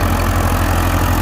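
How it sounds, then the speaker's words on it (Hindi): Massey Ferguson 1035 tractor running smoothly with a 7 ft KSD rotavator attached, a loud close, steady diesel drone with a rhythmic low throb and no talking. "ट्रैक्टर बिल्कुल स्मूथ चल रहा है, लोड फ्री चल रहा है"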